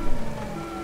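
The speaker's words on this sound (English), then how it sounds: "gotta put that dual siren on" Police car dual siren from a 2018 Dodge Charger in the LSPDFR video game on a rainy day, a short steady wailing tone over engine rumble, fairly loud and without talk.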